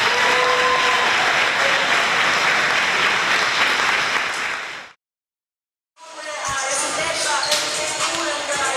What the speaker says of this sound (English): Please give them all one more round of applause.